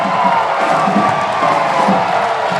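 A volleyball arena crowd at a Hawaii men's match against UCI cheers and roars loudly and continuously, a dense wall of voices with no other sound above it.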